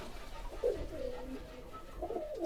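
Pigeons coo in a rooftop pigeon house, giving soft, low coos at close range, two or three phrases over faint background noise.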